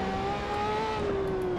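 A race car engine in Assetto Corsa revs with a steady, sustained whine that climbs gently in pitch, loud and continuous, with no talking.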